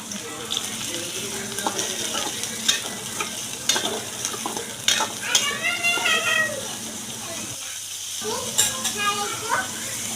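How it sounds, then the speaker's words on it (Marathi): Chopped tomato and onion fry in a pan over tempered cumin and mustard seeds, a steady sizzle with stirring scrapes and spatters, while someone talks over it, and a short quiet gap falls near the end. "टोमॅटो आणि कांदा छान लालसर होईपर्यंत तळूया"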